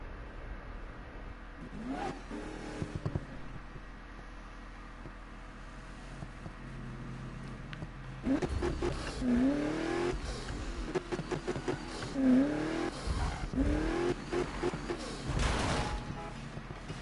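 Tuned cars in Need for Speed Ghost rev and accelerate in a steady stream of engine roar, the pitch sweeping up and down through gear changes, with sharper bursts and skids after a quieter opening stretch.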